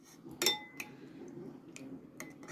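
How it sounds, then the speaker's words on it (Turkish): A spoon clinks and scrapes against a pot while tomato paste is stirred with hot water among halved eggplants, a few sharp metallic taps and softer scrapes, close and otherwise quiet. "İyice karıştırıyorum."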